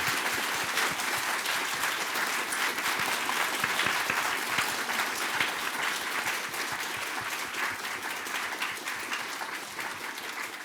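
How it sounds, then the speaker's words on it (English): At a Berkeley Japan Prize conversation event, a large audience applauds for a long stretch. The dense, sustained clapping stays even and fairly loud, then tapers slightly toward the end, with no speech over it. "let's have a round of applause for..."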